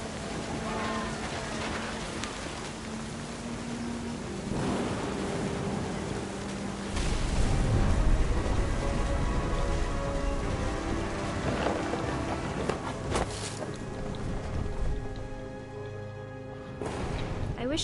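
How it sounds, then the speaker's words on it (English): Steady rain and a thunderstorm in the What Remains of Edith Finch video game, a constant hiss of falling rain with a deep thunder rumble swelling in the middle, under a voice speaking throughout alongside faint music. "The thunder sounded much too close and full of angry power."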